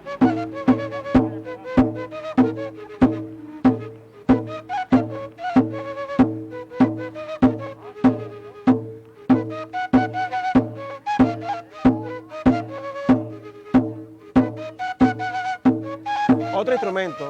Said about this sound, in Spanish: El llamador suena así.